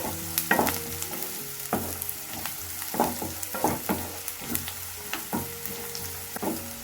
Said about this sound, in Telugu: ఇవి కూడా కొంచెం లైట్గా ద్వారగా వేయించుకుంటే సరిపోతుంది.